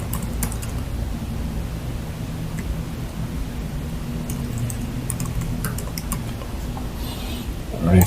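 Computer keyboard typing in scattered bursts of light, crisp key clicks over a steady low hum and background hiss, with a slightly louder bump at the very end.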